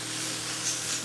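Steady bright hiss of carrots sizzling in a hot pan for chicken vegetable teriyaki, continuous and even with no talking.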